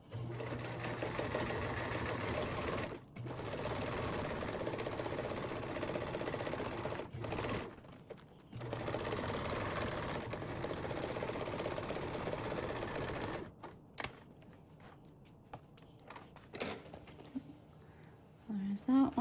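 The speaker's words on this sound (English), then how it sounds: "Now I'm going to baste around the top portion." Sewing machine basting around the top of a convertible duffle bag panel, whirring close in long steady runs broken by short pauses, then stopping near the end, with a voice talking over it at times.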